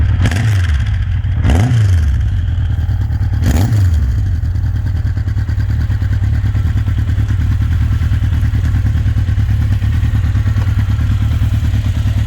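A 1982 Honda CB900C motorcycle idles with a deep, steady quad exhaust burble, close and loud, with a few quick throttle blips near the start.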